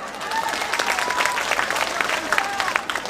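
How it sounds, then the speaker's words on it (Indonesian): Audience applause at an Islamic religious gathering, a sustained wash of clapping from a large crowd lasting about three seconds at steady loudness, with faint voices mixed in. "Tepuk tangan buat Banser."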